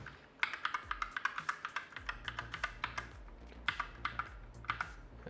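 Keys on a salvaged computer keyboard are pressed one after another while being tested, giving a quick, fairly even run of close, crisp clacks at a low overall level with a few brief pauses.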